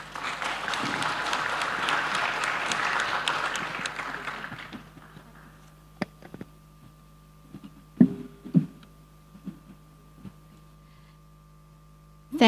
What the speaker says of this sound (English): give applause to all our speakers.